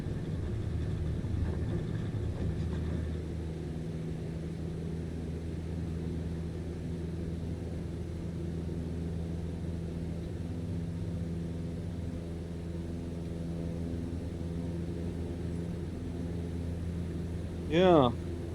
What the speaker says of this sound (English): This rickety old Cessna